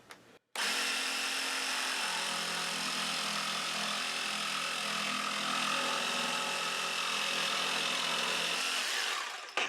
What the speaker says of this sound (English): I have a piece of 3/4 inch plywood, and we're going to see how this cuts